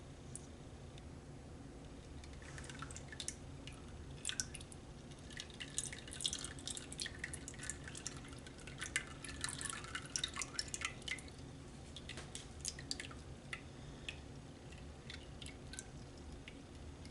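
Strained apple juice for jelly trickles and drips steadily through a sieve into a container, a continuous close wet patter with scattered sharper droplet ticks and no voices.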